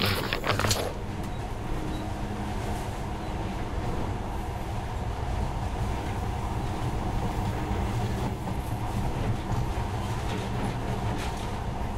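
A monorail train runs steadily through the Metro Last Light video game, giving a continuous low rumble with rolling rail noise and faint clatter throughout, heard alone with no talk.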